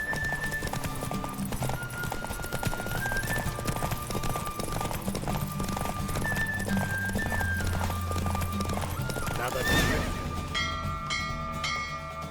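Rhythmic hoofbeats of a horse in The Witcher clop along steadily with a faint melodic tone and bell-like accents, a continuous galloping patter that swells briefly near the end.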